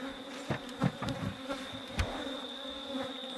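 Honeybees buzzing at a hive during feeding and maintenance, a steady close drone with occasional louder passes of individual bees, no talking over it.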